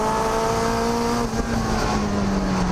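A turbocharged Mazda MX-5 race car powers out of a corner during a time attack event, its engine note loud, close and steady with a slight dip in pitch partway through.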